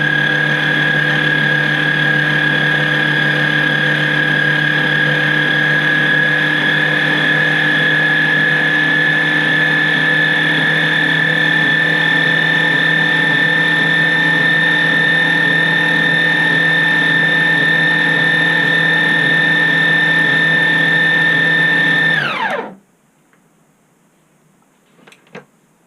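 An electric mixer blends homemade rocky road ice cream mixture on low speed, a loud steady motor whine that runs evenly for about twenty-two seconds before cutting off abruptly into near silence.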